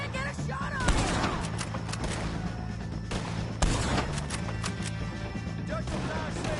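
Gunfire in the Western game Red Dead Redemption, a fight against the O'Driscolls: a few sharp, punchy shots over a busy, rumbling background with faint voices.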